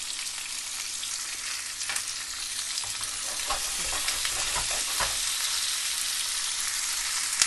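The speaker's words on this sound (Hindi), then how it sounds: "हम इसमें ऐड करेंगे अपना प्याज। मैंने आपको पहले भी बताया है, जैसे ही प्याज डालें थोड़ा सा नमक डाल दिया करें।" Onions sizzle steadily in a hot pan for Goan fish curry, a close, continuous crackling hiss with occasional stirring scrapes and no talking.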